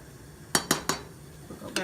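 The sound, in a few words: stirring rice in a pot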